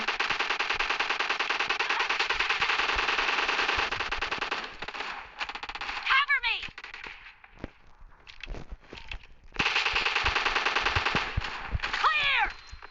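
Gunfire from a double-barrel weapon in a video game comes in rapid, loud bursts of repeated shots, with quieter gaps and sweeping whoosh effects between the volleys.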